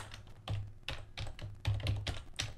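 Quick bursts of keys struck on a computer keyboard while writing code, uneven clusters of soft clicks at close range in a quiet room, no voices.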